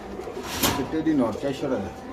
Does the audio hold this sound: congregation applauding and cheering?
no